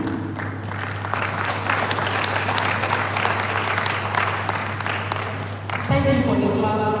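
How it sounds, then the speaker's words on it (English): Audience at a foundation event clapping for a speaker, a dense sustained patter of many hands over a low steady hum, ending as a voice begins talking near the close. "Thank you for the clap"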